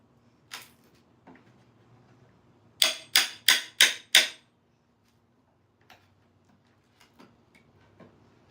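A crowbar prying apart a wooden pallet gives a rapid run of five sharp, loud knocks close by, with scattered fainter taps and clunks before and after.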